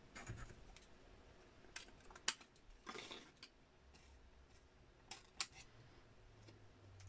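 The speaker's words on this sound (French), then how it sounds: "Et on coupe ici en biseau." Scissors snip paper at an angle while a pop-up album page is made, giving a few quiet, scattered cuts and ticks against a faint, hushed background.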